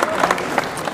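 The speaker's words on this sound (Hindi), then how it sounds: "ये हाथ भी उठाओ और ताली भी बजाओ" A crowd at a Gurjar community political rally claps briefly, a burst of dense, close applause with a few sharper individual claps.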